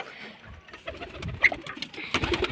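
A pigeon coos close by in short soft calls, with scuffling and fluttering in between and faint background noise.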